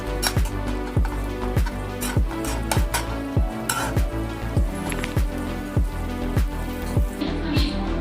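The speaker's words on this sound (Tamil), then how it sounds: "சப்பாத்தியை போட்டு இதை நல்லா ஃப்ரை பண்ணணும்." Small pieces of cut chapati frying in a pan, loud rhythmic scraping and tossing strokes about twice a second over a constant oily sizzle, close up and with no talking.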